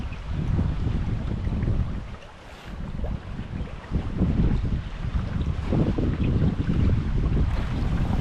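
Strong wind buffets the microphone beside a high-flowing spring river during fishing, a loud, constant roar with gusty swells and no speech.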